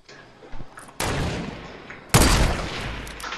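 Two sharp bursts of Fortnite gunfire, each a loud broadband blast followed by a sustained rattle, with a smaller pop just before; close and prominent, no voices.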